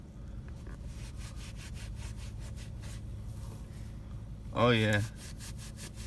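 A stiff brush scrubs a pair of Jordan sneakers in quick, rhythmic back-and-forth strokes, close and steady, with a short spoken exclamation near the end.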